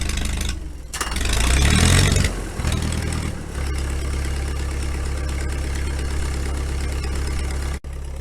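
A tiny IH D6 dozer's diesel engine, which starts on gas and switches to diesel, idles close by in cold weather with a steady low rumble after a brief rise in revs near the start.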